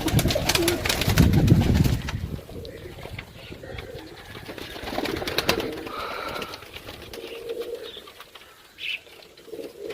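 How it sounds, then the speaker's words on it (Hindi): Pigeons cooing in a pigeon loft, with soft repeated coos up close and bursts of wing flapping mixed in against a busy background. "पीस चेक करो दोस्तों सही है साफ सुथरे पीस ने। कोई थल्ला ढाला है कबूतर चेक करो जनाब सही है।"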